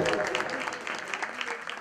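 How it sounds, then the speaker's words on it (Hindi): Audience applause for a singer at an evening musical program in a library hall, a steady wash of many hands clapping, moderately loud and close, with some voices mixed in. "एक बार जोरदार तालियां हो जाएंगी जीत कुमार से"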